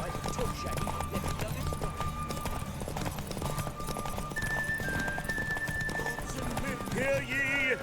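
Rapid hooves clip-clop in a galloping rhythm under game music and tonal effects, with a voice speaking over them.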